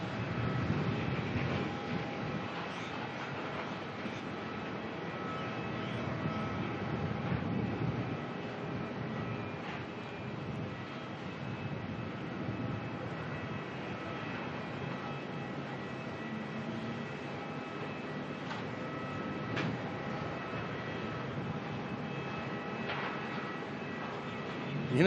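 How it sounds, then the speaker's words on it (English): An Airbus A350 airliner arriving from the Maldives makes a broad, steady engine roar at moderate distance that holds throughout, while someone talks over it now and then. "A350-200 coming in from the Maldives."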